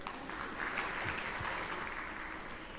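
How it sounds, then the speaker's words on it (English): Summit audience clapping again for a medical doctor at the Merck Foundation First Ladies Initiative Summit, a steady, fairly faint wash of applause throughout. "Clap for her again."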